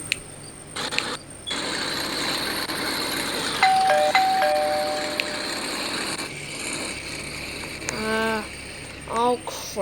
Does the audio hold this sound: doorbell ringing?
yes